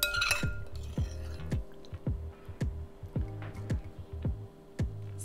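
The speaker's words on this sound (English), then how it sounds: "we're just gonna sort of cube up this jelly to make it easy to spoon in" A spoon taps and scoops through jelly in a bowl while a trifle is assembled: a steady run of light, close clinks, with soft wet squelches between them and no talking.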